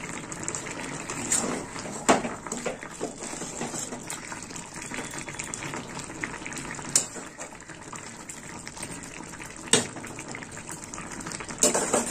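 Spinach and vegetable curry simmering in a pan over lowered heat, a steady bubbling, watery wash with occasional louder pops and splashes, close and continuous throughout with no voices.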